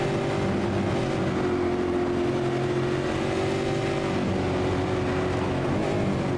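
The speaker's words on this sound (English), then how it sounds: "Low in the rev range. You can hear him just being really easy on the throttle." V8 Supercar from a sim racing game at Winton, engine held low in the rev range with gentle throttle, a steady continuous drone with layered harmonics and no talk.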